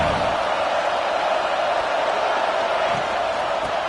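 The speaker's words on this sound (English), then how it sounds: "This crowd bringing the energy and noise early." Stadium crowd noise in the college football video game NCAA 26, a dense, steady roar of a large crowd throughout with no breaks.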